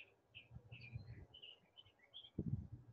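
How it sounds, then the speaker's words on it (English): Several small birds chirp outdoors in short high tweets and trills, faint and somewhat distant, over soft low rustling and a brief nearby thump near the end. "Can y'all hear those birds?"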